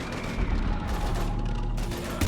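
Gunfire in Mass Effect during a firefight against Husks, a dense rumbling burst of shots with booming low impacts, close and fairly loud for about two seconds.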